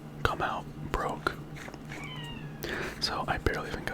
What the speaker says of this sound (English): you can hear my cat meowing